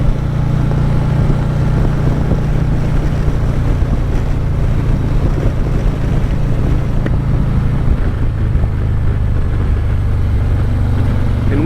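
A 2022 Harley-Davidson Street Glide ST with a Vance & Hines Torquer 450 exhaust rumbles loudly and steadily while riding, its low drone heavily buffeted by constant wind noise across the microphone.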